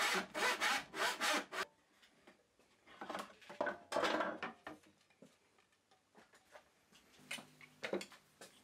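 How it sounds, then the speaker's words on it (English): A tenon saw cuts a wooden board to length by hand, giving a quick run of loud rhythmic rasping strokes at close range. After that come scattered irregular strokes, light knocks and pauses. "I cut the board to length using a tenon saw"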